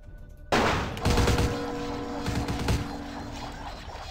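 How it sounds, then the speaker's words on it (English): Gunshots in the vampire role-playing game Vampire The Masquerade: Bloodlines: a sharp shot bursts in after brief quiet, followed by a louder cluster of shots and ringing, clattering echoes that fade over a few seconds. "I just shot that man in the cock."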